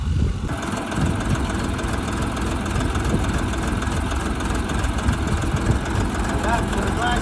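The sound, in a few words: mini tractor engine idling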